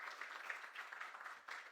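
A short burst of audience applause greets a speaker at a media and technology conference, a fairly faint, even patter of many hands.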